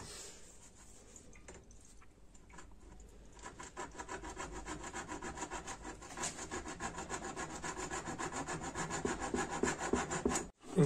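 A handsaw cuts through a rain gutter during installation, with steady back-and-forth rasping strokes close up that grow louder and more rhythmic toward the end, with no voices.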